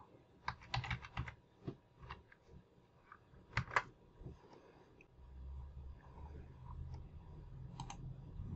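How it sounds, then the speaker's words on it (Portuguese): Keys tapped on a computer keyboard while entering a quadratic equation, in quick irregular bursts of clicks separated by pauses, close and fairly quiet over a low steady background hum. "Vou digitar aqui agora a minha equação."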